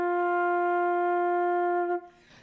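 A flute sustains a single steady F, the tone clear and even for about two seconds before it stops and leaves faint room noise.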